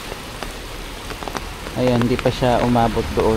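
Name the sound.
continuous rain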